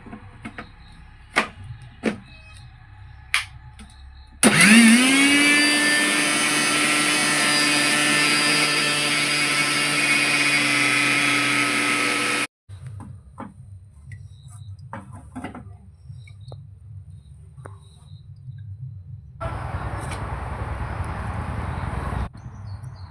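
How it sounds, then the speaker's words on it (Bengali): A kitchen mixer grinder grinding pumpkin starts up with a rising whine, then holds a loud, steady motorized drone for about eight seconds before cutting off, leaving quieter clatter and a brief noisy burst afterward. "কুমড়োটা মিক্সচার মেশিনে আমি বসিয়ে দিচ্ছি"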